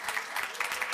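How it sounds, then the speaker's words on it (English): An indoor audience claps in a brief, dense burst of applause, steady and moderately loud. "we're gonna give this team a round of applause"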